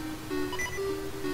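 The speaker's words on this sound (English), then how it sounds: "that beeping's starting to get annoying" A Legend of Zelda: Oracle of Ages video game beep, a short electronic tone sounding alone over a quiet game background.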